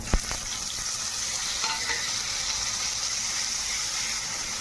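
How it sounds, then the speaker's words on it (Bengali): Chopped onion fries in a pan at home, giving a steady, close sizzle that runs unbroken throughout with a few faint stirring clicks and no voices. "কুচনো পেঁয়াজ দিয়ে দিলাম, পেঁয়াজটা একটু হালকা লাল করবো।"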